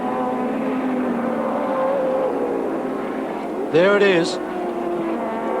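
Group C touring cars, including a turbocharged Nissan Bluebird, race at Sandown with a steady engine drone and a brief louder pass near the end, under continuous commentary.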